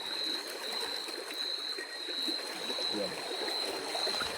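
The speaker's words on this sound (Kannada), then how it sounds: "ನೋಡಿ ಹೆಂಗೆ ನೀರು ಹೋಗ್ತಿದೆ ಅಂತ ಫಾಸ್ಟಲ್ಲಿ." Fast-flowing stream at night during crab and fish catching, a steady broadband rush of water with a faint high insect-like whine running through, continuous and fairly close.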